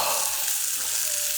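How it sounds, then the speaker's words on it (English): Tomahawk steak sizzles steadily on a Moesta One grill over a few embers, a close, continuous hiss that holds even from start to finish with no voices. "And then all you need to do is just every now and then flip your steak."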